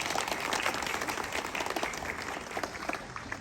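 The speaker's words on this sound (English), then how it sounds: "Please give them a big round of applause" An audience at an ASEAN 57th anniversary ceremony applauds the evening's guests of honor, a steady, dense round of clapping from a large crowd that holds at full strength for several seconds.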